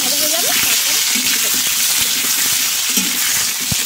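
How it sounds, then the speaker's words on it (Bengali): Potatoes fry in a pan for a fish curry, giving a loud, steady, hissing sizzle that fills the whole stretch, with a faint voice briefly at the start. "চলো আলুটা ভেজে নিই"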